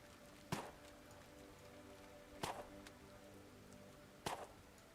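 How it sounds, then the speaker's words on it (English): Rain patters steadily in the farming game Farmer's Dynasty, a faint constant hiss broken by three sharp, evenly spaced thuds or cracks. "since it's a rainy day"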